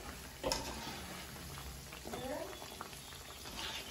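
Tapioca vadai frying in hot oil as they are flipped, a soft continuous bubbling sizzle with a couple of brief clinks and stirring touches, faint and close.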